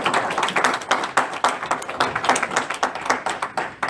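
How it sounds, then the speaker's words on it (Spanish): A church congregation applauds during an evening Spanish-language service, a steady loud wash of many hands clapping with rhythmic pulses throughout. "Y no sé cuántos le dan un aplauso al Señor esta noche."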